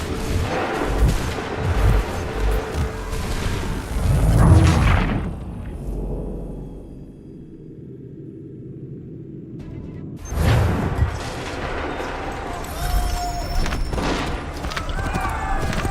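Musket volleys crack out in Assassin's Creed 3, a loud ragged fusillade at the start, a near-silent lull, then another heavy volley with booming shots continuing to the end.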